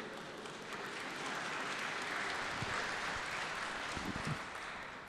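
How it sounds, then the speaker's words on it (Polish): Sustained audience applause at a priest's talk, a dense wash of many hands clapping steadily for about five seconds at moderate distance, with no speech over it. "Te oklaski"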